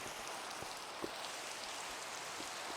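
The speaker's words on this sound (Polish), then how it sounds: "Tu jest deszcz" Steady Minecraft rain hiss fills the scene, with occasional heavier droplets splashing; a continuous, even downpour with no voices.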